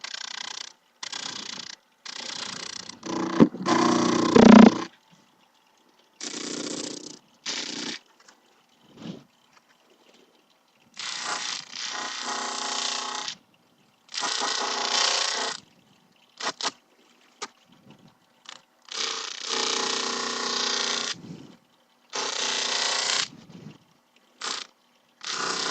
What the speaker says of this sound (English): I'm just using my sanding pad attachment for my drill press